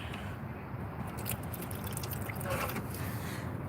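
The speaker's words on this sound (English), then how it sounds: "I'm going to go ahead and put some water in this little guy." A thin stream of water is poured into a small container, giving a soft, steady trickle and dribble that stays close and fairly quiet throughout, with no talking.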